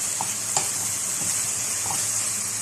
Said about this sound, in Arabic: بعد ما كده ما شوحت معايا اللحمه هبدا بقى ان انا انزل بالبصله اللي معايا